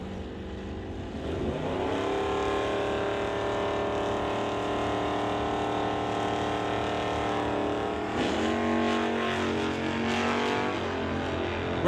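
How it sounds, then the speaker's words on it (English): A Chevy pickup and a Dodge Dart drag race at a strip, their engines roaring at full throttle with steady rising harmonics, a gear-shift dip near the second mark and a second surge near eight seconds, loud and continuous with no talking. "Neil Cutherson brings up the Chevy pickup to race Rob Hodgson, a typical hot rod runner in his Dodge Dart"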